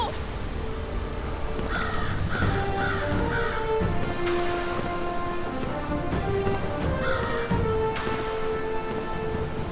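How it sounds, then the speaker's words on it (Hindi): A crow, the fabled three-eyed crow, caws in a quick series of four harsh calls and later again, loud and close over a busy layered background of rain-like noise and music. "तुम उस त्रिनेत्री काक को सचमुच ढूंढ लाए"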